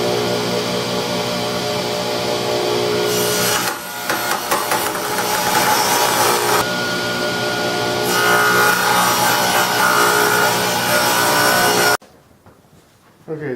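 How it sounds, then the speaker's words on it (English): A table saw rips a bevel along maple wood runners for a sled, a loud continuous whining cut with blade pitch shifting as the wood feeds through, then a sudden drop to near silence. "let's go ahead and cut the bevel on just one side of each piece of this wood"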